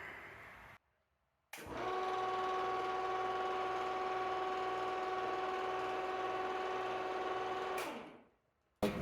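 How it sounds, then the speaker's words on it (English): A 1941 radial arm drill press runs at steady speed for about six seconds, a loud, even motor hum with a faint rhythmic pulse, starting after a short silence and winding down at the end. "now you're ready to drill"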